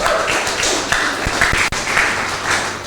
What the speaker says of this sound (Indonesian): Berikan tepuk tangan dong buat Tuhan.